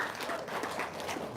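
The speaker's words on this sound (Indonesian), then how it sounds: "Tepuk tangan dong." A small group claps in a quick burst of applause, a dense patter of hand claps at steady moderate loudness with no voices over it.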